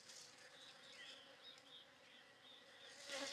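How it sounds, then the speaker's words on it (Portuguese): Many bees buzz around a flowering yellow jabuticaba tree outdoors, a steady faint drone of wings with individual insects passing close and fading away, growing slightly louder near the end. "Tem muita abelha aqui, como vocês podem ver aí."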